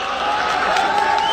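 Thin, fairly subdued audience applause at a poetry recital, a brief patter of clapping with crowd murmur and a faint sustained tone underneath.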